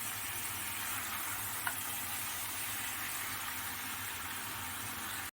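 Onions fry in a pan for an Afghan-style yogurt chicken cooked in a Delhi hostel kitchen. The sizzle is steady and moderately loud, with one small click partway through before it cuts off abruptly.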